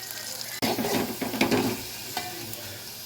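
Amaranth leaves frying and being stirred in a pan for a tomato curry, a loud steady sizzle starting with a sudden burst, with scraping stir strokes throughout and no talk.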